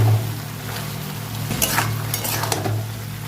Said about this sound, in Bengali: হলুদ গুঁড়ো, লঙ্কার গুঁড়ো, জিরে গুঁড়ো, ধনে গুঁড়ো, সমস্ত মশলা দিয়ে নিয়ে কষে নেব।